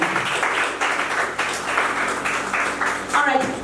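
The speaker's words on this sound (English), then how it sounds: "Please clap for them." An audience in a church-style gathering applauds a pastor couple celebrating their ninth wedding anniversary, clapping in uneven swells for a few seconds, with someone speaking over it.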